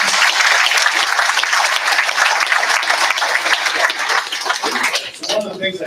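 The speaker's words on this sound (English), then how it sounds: "Let's give her a round of applause." A crowd at a school learning-center graduation ceremony gives a round of applause, with dense, steady clapping from many hands that holds strong for about five seconds before thinning out as a voice begins to speak.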